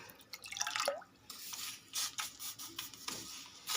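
Water dabbed onto a thick jowar roti on a hot griddle sizzles and hisses in short, uneven bursts, faint and close, with brief scraping sounds between.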